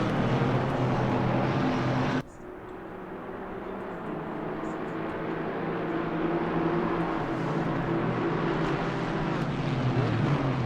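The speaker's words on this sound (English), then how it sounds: "fun to hear the trackside noise from the cars as they go by" Loud GT4 race car engine roar that cuts off abruptly, giving way to a steady, broad engine drone that slowly builds as GT4 race cars pass the track edge.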